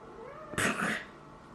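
A single cat's meow, drawn out and close, standing alone against a quiet room.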